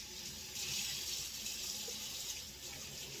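A kitchen tap pours water steadily into a pot of broccoli for broccoli cheddar soup, a continuous close rushing flow with no talk over it.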